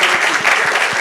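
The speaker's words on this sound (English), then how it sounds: "let's give a round of applause to our next president" A conference audience at a nearshoring summit in Mexico claps to welcome the next speaker, a dense, steady burst of applause filling the hall for about a second.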